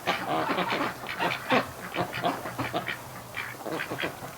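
Agitated ducks in a pen quack over and over in a busy, overlapping chorus after their eggs were taken from a goose nest, moderately close and without speech.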